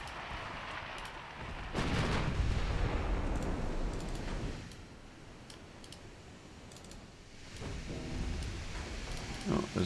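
Naval gunfire and shell impacts in a warship video game, including hits from a 5-inch gun on the Schwarzenberg: a loud burst of booming blasts followed by scattered sharp cracks and rumbling, with talk heard faintly.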